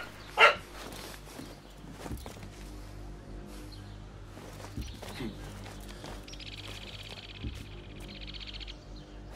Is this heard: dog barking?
yes